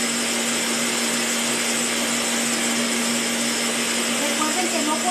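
A blender runs at full speed through pumpkin spice cake batter with cheese, a loud steady whirring drone with a constant motor hum and no pauses.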